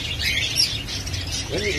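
Caged songbirds chirp and tweet at an outdoor bird market in Iraq, a busy scatter of close, bright calls with a voice talking beneath them.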